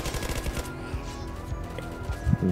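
Rapid automatic gunfire crackles in the zombie-shooter video game Zombie Uprising, a dense burst of shots up front that thins into scattered single pops over a low rumble.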